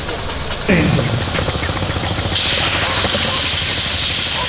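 A small steam engine at a steam rally runs with a steady hissing, chuffing rumble, nearby and fairly loud, and a sharp jet of steam starts partway through.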